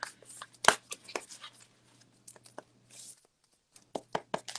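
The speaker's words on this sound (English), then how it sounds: "So I'm gonna go ahead and start shuffling here." Tarot cards are shuffled by hand in a zodiac reading, giving a run of quick papery riffles and soft taps, close and in irregular bursts, with no speech.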